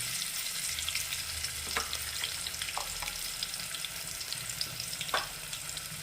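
Chilies and ginger-green chili paste fry in a hot pan with a steady, close sizzle, broken by a few sharp crackles and stirring scrapes.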